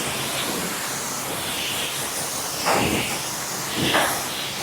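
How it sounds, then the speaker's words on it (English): Water spraying from a pressure washer gun while rinsing dust off a car: a steady, loud, broad hiss runs throughout, swelling in two brief surges near the end. "all of the noise actually comes from the water coming out of the gun"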